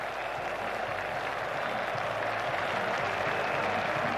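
A cricket crowd at Bristol rises to applaud Ricky Ponting's century for Australia against England in 2001, a dense, steady roar of clapping from many spectators, sustained and even throughout, with no voice above it.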